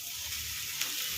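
Flattened rice (aval) frying in hot oil on a low flame for a Kerala mixture, a steady close hiss of sizzling with one brief louder crackle near the end and no talk.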